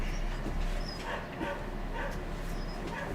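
A dog barks and yips in short bursts from outside, muffled and somewhat distant, over steady background noise.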